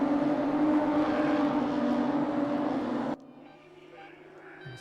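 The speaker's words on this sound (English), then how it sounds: "So noisy old cars these." BMW 235i race cars at Silverstone in a racing game, a loud steady engine drone with a broad roar that drops off sharply near the end, leaving a quieter background hum.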